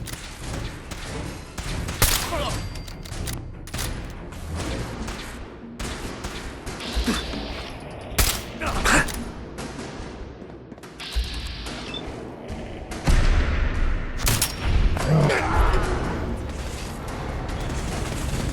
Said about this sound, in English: We are being shot at.